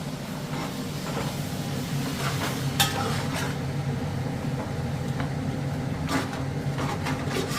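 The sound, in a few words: spinach frying and being stirred in a pan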